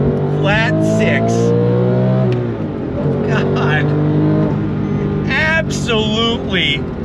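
A 2004 Porsche 911 GT3's high-revving flat-six engine climbs loudly through the revs without a downshift, a strong rising harmonic whine that dips and surges again, with someone talking excitedly over it from inside the car.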